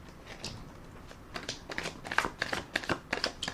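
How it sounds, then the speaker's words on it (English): Tarot cards being shuffled and riffled by hand, a run of soft papery flutters and slaps that grow denser and louder toward the end, close up with no talking. "we're going to put another shuffle and rifle on the cards"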